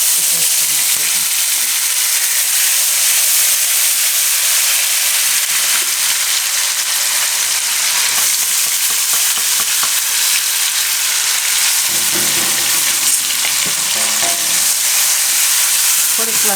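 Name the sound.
frying ginger, chilies and garlic with whole spices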